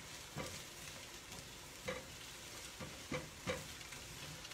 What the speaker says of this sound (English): move that onion around a little bit